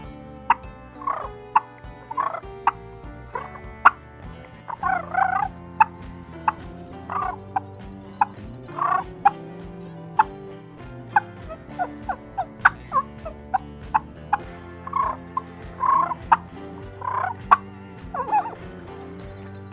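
A turkey hen's soft clucks and purrs imitated on a mouth call, intermittent short clucks and rolling purrs spaced irregularly, close and fairly quiet with no talking.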